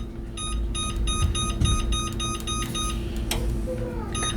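A kitchen timer beeps in a regular run of bright, evenly spaced pulses over a low hum, then stops; a brief clatter follows near the end.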